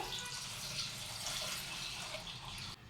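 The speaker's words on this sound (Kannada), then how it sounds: "ಅದಾದಮೇಲೆ ಹಾಲು ಹಾಕ್ಕೊಬೇಕು" Milk pouring into a cooker for sweet pongal, a faint, steady liquid stream that stops abruptly near the end.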